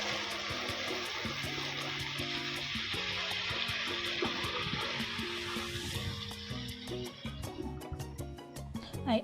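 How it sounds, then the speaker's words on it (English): Reserved broth pours into a pan of chicken gizzards and tomatoes, a steady watery rush with soft bubbling sizzle and occasional utensil clinks, fairly quiet and continuous. "I pour in reserved broth to combine everything."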